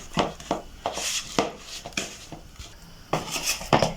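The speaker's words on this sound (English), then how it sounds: "So with your mwiko, with your spoon, whatever thing you have with your mixture, just mix it until it is well incorporated." Spoon mixing sugar and margarine in a bowl, irregular scraping and clinking strokes close by, with no talking.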